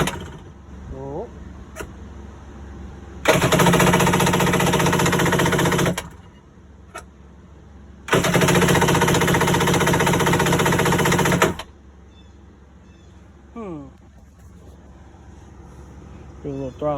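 A cheap jet ski engine, run without a battery, cranks hard with the choke pulled in two loud sustained mechanical bursts of a few seconds each, separated by quiet gaps with faint background noise.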